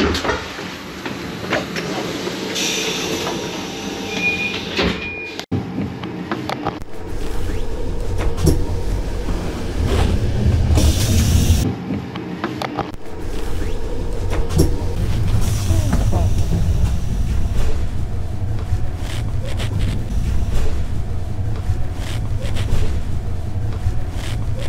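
Interior of a carriage on the EIC Wisła train to Berlin, with a continuous rumble of the moving train, a door sliding and thudding partway through, and people talking under the steady rolling noise.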